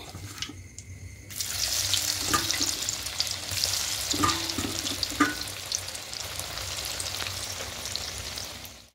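Soybean chunks frying in a pan until reddish, a steady close sizzle with occasional stirring scrapes, following a brief quieter moment at the start.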